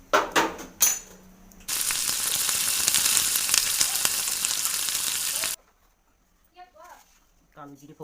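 Nigella seeds dropped into hot oil for tempering while cooking bhindi masala burst into a loud, steady sizzle lasting several seconds, then cut off abruptly, with brief clattering before and faint speech after.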